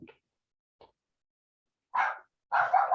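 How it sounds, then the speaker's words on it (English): A dog barks a few times indoors: two faint short yips, then two louder, fuller barks close by, with silence between them. "My dog is barking."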